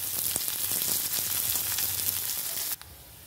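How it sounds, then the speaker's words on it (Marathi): Garlic and onion frying in oil give a loud, steady sizzle close up, with light stirring scrapes, cutting off sharply near the end. "लसूण पण जरा तेलावर कांद्यासोबत जरा परतून घ्यायचं आहे"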